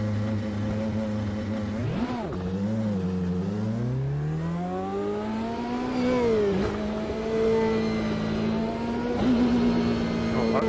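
A 1990s Toyota race car in the Automobilista 2 racing game revving through gear changes, its engine note sweeping up, dropping and climbing again, smooth and prominent with light tire noise.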